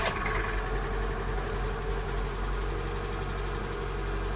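A car engine with a sticky valve idles steadily right after the starter cranks, a continuous close low rumble with a faint irregular ticking layered through it.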